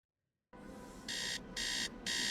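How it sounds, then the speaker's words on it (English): An alarm clock in the video game Tales of the Neon Sea rings in three loud, evenly spaced electronic beeps over a steady background hum. "Why this alarm clock?"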